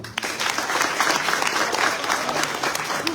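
An audience applauds in a thick, continuous wash of many hands clapping, steady and fairly close throughout, with a faint murmur of voices mixed underneath.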